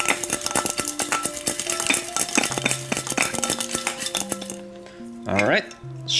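Small plastic model kit parts for a Figure-rise Super Saiyan God Super Saiyan Goku rattle and clatter inside a shaken container, giving dense, rapid clinking and knocking that fades near the end, followed by a brief tonal squeak.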